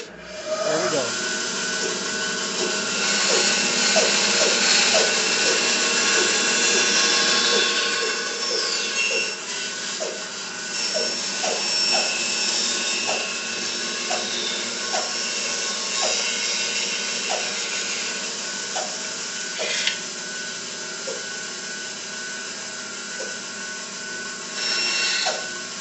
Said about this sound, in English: we're just going to want to follow this pattern on the bandsaw